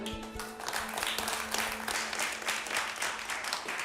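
Applause from a lecture audience after a historical talk, a steady dense patter of many hands at moderate distance, sustained evenly throughout.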